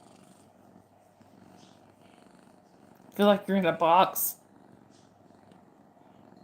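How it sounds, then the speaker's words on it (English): A cat named Shelly purrs in a brief, close burst of rhythmic rumbling, surrounded by quiet room tone and soft speech. "You do hear purring, but it's not Bella."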